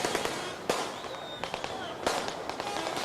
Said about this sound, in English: The message is received with jubilation and celebratory gunfire.